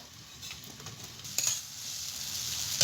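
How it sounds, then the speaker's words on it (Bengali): Chopped vegetables fry under a lid in a pan for a vegetarian chire pulao, giving a steady close sizzle with soft crackles and a few brief clinks, with no voices. "ঢাকা দিয়ে ভেজে নেবো, তাহলে সিদ্ধ হয়ে যাবে"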